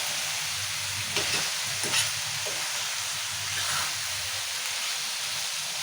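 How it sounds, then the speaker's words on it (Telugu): Tomatoes being stirred into a fenugreek leaf curry frying in a pan, a steady hiss of sizzling oil with a few soft scrapes and clinks of the spoon, close and alone without talk. "టమాటా వేసుకొని మంచిగా కలుపుకోవాలి."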